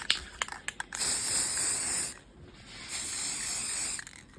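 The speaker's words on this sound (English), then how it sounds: "I am going to put my gold plates upside down and spray paint." A few sharp clicks and rattles, then two long hissing bursts from an aerosol can spray-painting half-scale gold plates, with a short pause between them.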